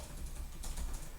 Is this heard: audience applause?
no